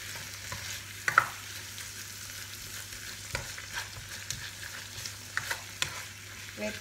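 Spoon stirring a tuna and mushroom mixture in a frying pan, soft steady sizzling with intermittent scraping clinks of the utensil against the pan, close and fairly quiet.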